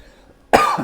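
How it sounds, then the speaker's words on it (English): A single sharp, loud cough bursts out after a short quiet moment, close to the listener. "Why am I coughing all of a sudden?"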